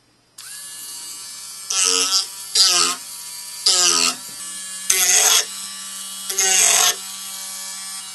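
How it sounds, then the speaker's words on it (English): A Dremel rotary tool shapes basswood model ribs, running as a steady high whine that rises into five louder grinding bursts as the bit bites the wood, close and alone. "And I shaped them using the Dremel tool."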